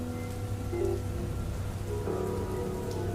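Steady rain pours in a stormy forest at night, a dense continuous hiss of drops with a low rumble beneath, even and close throughout.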